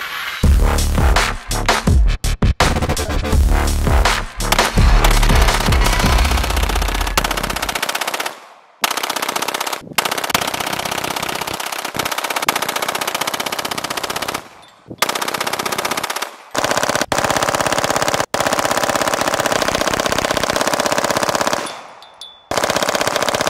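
Rapid, sustained handgun fire from a 500-round burn-down test of a pistol fitted with an Inforce Wild 2 weapon light, shots hammering loud and close in long continuous strings broken by brief pauses.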